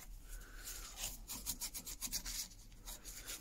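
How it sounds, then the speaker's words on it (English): Cloth rubbing Danish oil over wood on an E.C.E. Primus adjustable-mouth woodwind during repair, a soft close-up rasping wipe in repeated short strokes, quiet and alone. "if I just give that a little wipe over with Danish oil"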